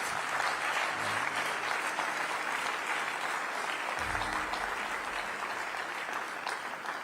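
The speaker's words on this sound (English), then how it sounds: "Please continue clapping until she takes her seat." Continuous dense applause from a memorial tribute audience, a steady, full wash of many hands clapping throughout with no pauses, loud and close.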